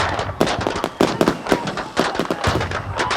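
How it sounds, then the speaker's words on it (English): Dense fireworks crackle and pop in rapid, irregular bursts, loud and close, with sharp cracks overlapping one another and no voices. "Why are the fireworks starting? Someone must have set them off early."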